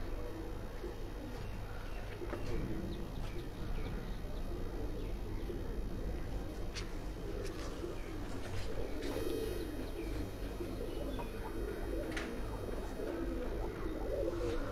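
Pigeons kept in a loft coo steadily and continuously, several birds layered together at close range, with occasional faint chirps over a constant low hum.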